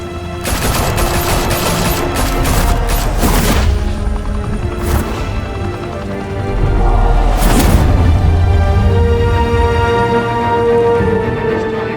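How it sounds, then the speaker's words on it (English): Sustained bursts of automatic gunfire and heavy booms in the Batman: The Telltale Series video game, loud and close, with rapid volleys continuing throughout. "Open fire!"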